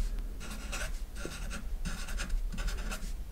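Math is being written on a board, giving quick, scratchy strokes in short rhythmic bursts that run steadily with no talking.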